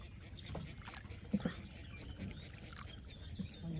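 A small boat moves through flood water in a village while a boy fishes, with soft water and paddling sounds, brief splashes and faint bird and wind noise in the background.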